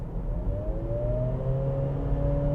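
A 2026 Acura ADX small SUV in sport mode, its engine winding up steadily under acceleration: a sustained, rising drone with a climbing tone over low road rumble, close and continuous, with no talking.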